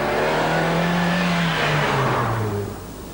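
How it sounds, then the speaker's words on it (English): A Nissan Sunny B13 engine roars loudly and steadily, its pitch climbing as it accelerates, then drops briefly as it shifts gear and eases off near the end. "there's also quite a lot of engine noise, particularly when you're pressing on through the gears"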